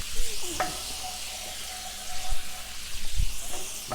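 White wine reducing in a hot pan for veal saltimbocca pan sauce, giving a soft steady sizzle with occasional clinks and stirring sounds, no talking.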